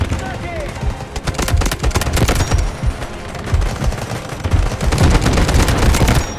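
Rapid, dense bursts of automatic gunfire from the video game Delta Force crackle loudly and almost without pause, with overlapping shots and heavier reports throughout.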